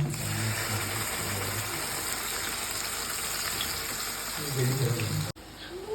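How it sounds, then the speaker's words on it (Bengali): Onion paste drops into a hot pan for a fish curry and sizzles with a steady frying hiss, close by and fairly loud, while someone speaks. "এবার দিয়ে দিচ্ছি পেঁয়াজ বাটা।"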